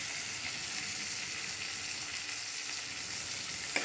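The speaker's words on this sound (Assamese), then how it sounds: "তেল বিৰিঙি যোৱাৰ পিছত মই ইয়াত বিলাহী দিলোঁ বিলাহীখিনি অলপ মানে গলি নোযোৱালৈকে ভালকৈ ভাজিব লাগিব" Tomatoes fry in hot oil in a pan, giving a steady, close hiss and crackle throughout with one small clatter near the end and no voices.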